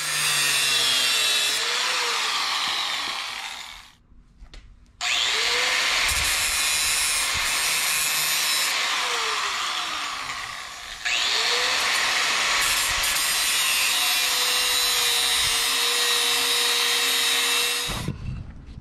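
A power grinder cuts metal in three long, loud, high-pitched whining runs separated by brief pauses as the disc spins down and restarts.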